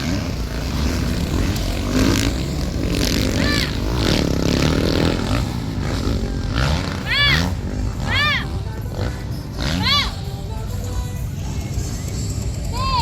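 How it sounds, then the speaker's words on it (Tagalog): Motocross motorcycles racing in an expert-class heat in Narvacan, Ilocos Sur, engines roaring continuously with several rising and falling revving passes, under steady crowd and announcer talk. "Looks like we have a battle for second between two motor riders, McLean Aguilar and Opo Gabriel."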